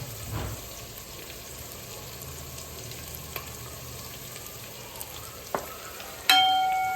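Red chili, turmeric and salt go into a hot khichdi tempering, giving a soft, steady sizzle with a few light clinks and a sharper clatter near the end, close by and without talk.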